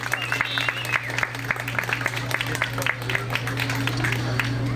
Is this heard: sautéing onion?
no